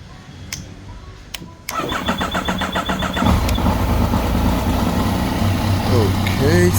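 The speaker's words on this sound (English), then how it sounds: "My starter relay had a bit of delay there" Yamaha Tracer 9 motorcycle engine cranks after a short starter-relay delay, catching at once and settling into a steady, loud, close idle that runs to the end, with faint clicks beforehand.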